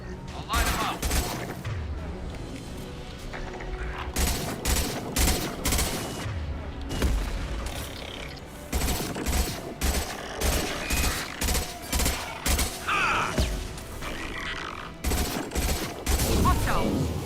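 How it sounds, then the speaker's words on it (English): Rapid bursts of gunfire from the space shooter game Mass Effect 2 on Hardcore difficulty, with loud crackling volleys and booms repeating in quick clusters throughout, over a dense layer of game effects. "Firing a high-impact shot."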